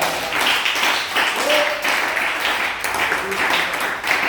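A church congregation applauding and cheering the Lord during a French-language service, sustained clapping and crowd noise with voices calling out over it, steady for several seconds.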